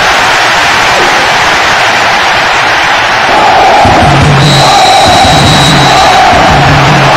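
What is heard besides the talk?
crowd cheering a goal in PES6 video game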